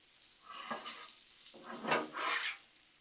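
Dirty cabbage with seasoning being mixed on a Blackstone flat-top griddle, a faint sizzle under two or three scraping, swishing spatula passes.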